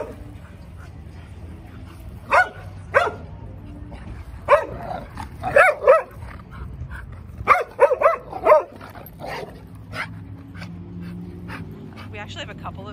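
A dog barks and yips in short playful bursts during play, with whimpers in between and people talking over the noise.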